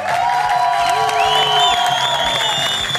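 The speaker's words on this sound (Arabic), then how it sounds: "تصفيق." A game show studio audience in Iraq cheers and applauds loudly and continuously for a family winning ten million dinars, with whoops and shrill whistles over dense clapping.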